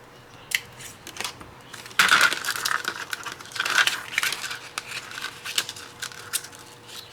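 Scissors trim excess paper from a handmade frame card close up, with a few crisp snips and crinkling paper rustles at an uneven pace, fairly quiet.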